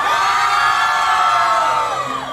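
Crowd at a live concert shouts and cheers on cue, a loud sustained wall of voices and whoops lasting throughout.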